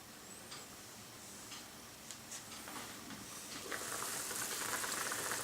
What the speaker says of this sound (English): it has now come up to the boil, so we'll turn that down, let that simmer away